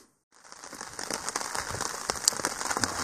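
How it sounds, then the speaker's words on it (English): Rain falls on a hammock camp beside a river in Finland, a dense, steady patter and hiss of drops on fabric and foliage that starts abruptly and keeps going, close and fairly loud. "holding the rain in my hammock camp"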